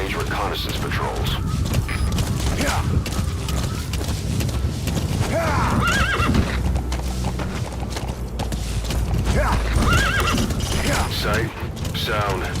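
A horse whinnies and snorts while hooves clip-clop steadily underneath as it moves with a rider on horseback in Metal Gear Solid V: The Phantom Pain, close and continuous against a busy game background.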